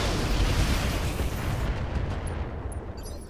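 Missile and particle cannon fire from a pair of SRM-2 launchers and a PPC in the mech game Roguetech, heard as a dense, rumbling barrage of blasts that holds loud and steady, then thins toward the end.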